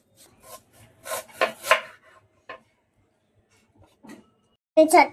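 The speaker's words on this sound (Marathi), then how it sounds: "फोडणीसाठी आता आपण कांदा कापून घेऊ" Several short, close knife strokes thud against a board while chopping onion, in irregular bursts, with quiet gaps between them and a louder clump of cuts at the end.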